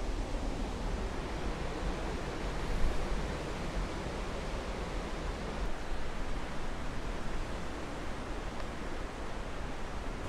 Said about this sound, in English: We are leaving this very impressive waterfall, Jeongbang Waterfall